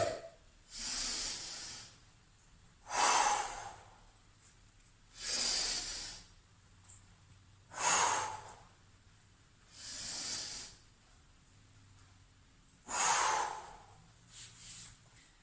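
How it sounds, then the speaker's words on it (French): Deep breaths during an exercise warm-up repeat in a steady cycle of close, airy hissing inhales and exhales, roughly every two to three seconds, with no talking. "Donc on inspire, on expire."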